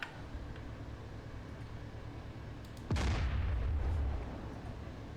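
A tank shell lands in the DCS Combined Arms battlefield: a single sudden explosive impact with a low rumbling tail lasting about a second, then a quiet background.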